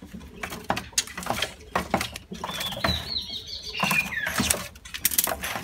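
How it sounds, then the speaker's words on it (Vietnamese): A red-headed bush bird sings thin, high whistled notes amid close clicking and rustling patter, the song brief and fairly faint. "các anh đang nghe những cái con thú bụi đầu đỏ nó đang hót"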